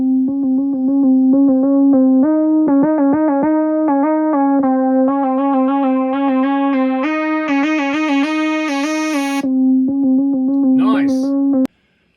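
A synthesizer line pitched down one octave plays a stepped melody of sustained harmonic notes, loud and alone, brightening as it climbs before a short gliding sweep and an abrupt cutoff.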